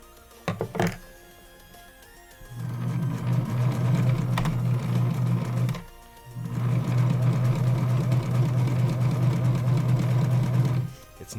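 Electric sewing machine stitching in two long bursts of rapid, even mechanical chatter separated by a brief pause, loud and close, with a couple of clicks and thumps before the first run.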